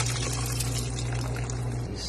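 Salt brine drains off a batch of kimchi cabbage in a steady, continuous trickle of running water, close and fairly loud, with a low hum underneath and no talking.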